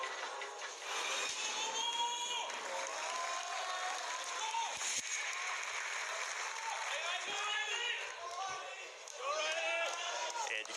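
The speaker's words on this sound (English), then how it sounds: "Hear the crowd into it here." A large indoor crowd at a Clash Royale esports grand final roars and cheers steadily with scattered shouts and whistles, a continuous loud din that swells near the end.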